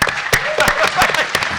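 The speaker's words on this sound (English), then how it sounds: "Round of applause for this heroism." Sparse, uneven claps from a panel-discussion audience ring out sharply over a murmur of voices, a brief scattering of hands rather than a full ovation.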